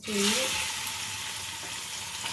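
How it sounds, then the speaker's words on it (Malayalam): Homemade coconut oil poured into a hot pan for Kerala-style prawn pickle gives a loud, close, steady sizzle, with a brief voice at the start. "ചൂടായ പാനിലേക്ക് ഞാൻ എണ്ണ ഒഴിച്ചു കൊടുത്തിട്ടുണ്ട്."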